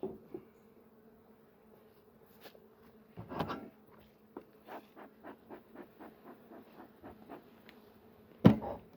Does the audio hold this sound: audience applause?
no